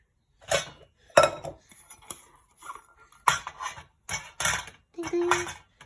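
A small metal pot pan being handled up close, with a series of separate clinks and clatters at uneven intervals and short gaps of quiet between them.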